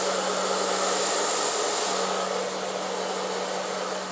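An ETI Turbodryer Professional hair dryer, with hair products inside it, blows continuously with a steady, loud whooshing hiss and a low motor hum throughout.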